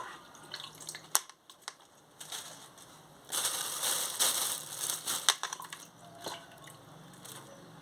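Flowers, including crown flowers, are rinsed under water, giving wet splashing and trickling with crisp crinkly handling noises in bursts, near and fairly quiet.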